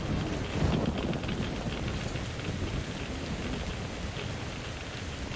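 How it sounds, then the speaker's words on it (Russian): Steady radioactive rain falls in the video game Metro Exodus, a dense, even hiss of drops with low rumbling underneath, continuing without a break. "Это, блин, дождик радиоактивный какой-то."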